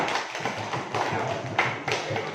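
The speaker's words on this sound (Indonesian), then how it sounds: "kita kasih aplaus lagi buat kelompok 3" Classroom applause from students for a presenting group, a steady patter of many hands clapping together, fairly close and lively, with light voices mixed in.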